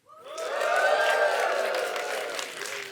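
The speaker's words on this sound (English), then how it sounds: "Give me a cheer" Studio audience at a live talk show cheering and whooping together on cue, a loud swelling burst of crowd voices with scattered applause that fades slightly at the end.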